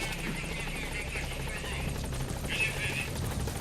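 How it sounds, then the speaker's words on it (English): Helicopter rotor drone in the video game Metal Gear Solid V: The Phantom Pain, a steady buzzing hum throughout with faint talk and game sounds mixed in. "that's my helicopter"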